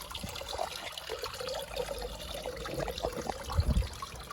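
Water drains from the air filter housing of a Land Rover Freelander 2 with a faint, steady trickle and dribble, plus a soft splash near the end, heard up close with no talking.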